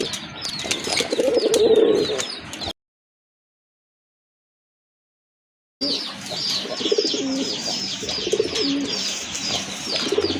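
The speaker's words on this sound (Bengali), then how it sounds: "খুবই চমৎকার কোয়ালিটিফুল এক জোড়া কাগজি কবুতর" A pair of kagoji pigeons at a pigeon and poultry sale, cooing in soft repeated low calls with chirps close by, broken by a few seconds of silence before the cooing resumes.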